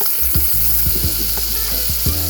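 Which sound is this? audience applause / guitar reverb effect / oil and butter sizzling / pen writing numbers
oil and butter sizzling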